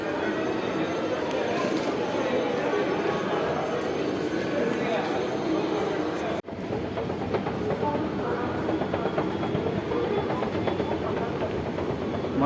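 A Hyderabad metro train runs in a steady, continuous rumble with some rattling, heard from inside the moving carriage while people talk over the noise.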